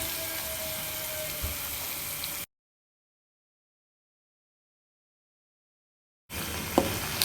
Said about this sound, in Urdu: ایک منٹ تک آلوؤں کے ساتھ بھون لیں گے۔